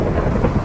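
Thunder rolls in a video game, a low rumbling burst mixed with rain.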